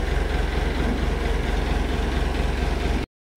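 A large boat engine with a newly replaced transmission runs at a steady idle. It gives a loud, close, rhythmic low throb that stops abruptly near the end.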